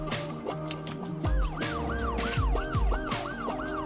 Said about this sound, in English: Oh, and an ambulance that turned around and left.